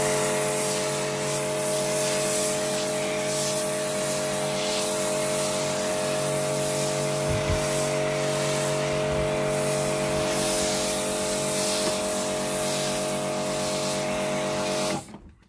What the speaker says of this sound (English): This is a 130 bar pressure washer.